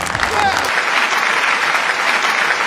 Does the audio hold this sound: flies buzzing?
no